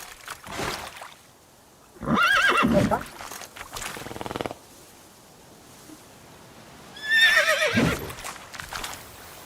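A horse in the video game The Witcher 3 gives two loud, close whinnies several seconds apart, with hoof clip-clops and faint ambient game sounds between them.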